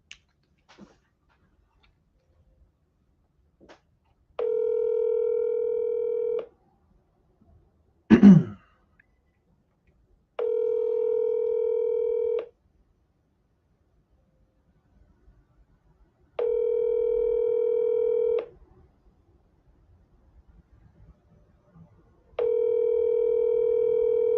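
A phone line to a Denver, Colorado number rings, with four evenly spaced, steady electronic tone bursts of about two seconds each separated by silence, and a brief throat-clear or click between the first two.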